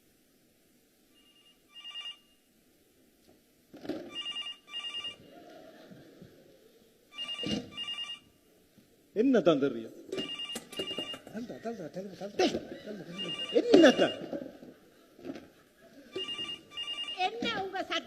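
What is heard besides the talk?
telephone ringing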